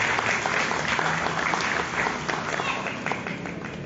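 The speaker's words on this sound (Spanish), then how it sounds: "lo recibimos con fuertes aplausos, por favor, al doctor Gonzalo Patigoso Laiza" Strong applause from a crowd at a tribute ceremony welcomes a guest to the honor table, continuous clapping from many people that eases slightly toward the end, with a faint murmur of voices in the mix.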